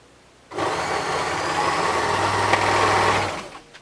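An overlocker sewing machine runs briefly to sew off a thread tail, a close, fast whirring hum lasting about three seconds before stopping, with no talking.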